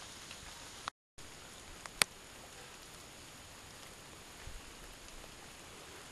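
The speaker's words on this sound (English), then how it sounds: "It just rains and rains." Steady outdoor rain during strange, Seattle-like wet weather, a continuous soft patter on surfaces with a couple of brief sharp drips or ticks, fairly faint and even throughout.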